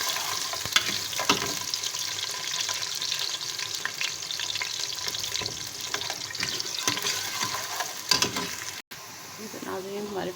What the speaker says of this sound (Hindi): अब हम इसमें प्याज शामिल करेंगे और इसको ब्राउन होने तक फ्राई करेंगे।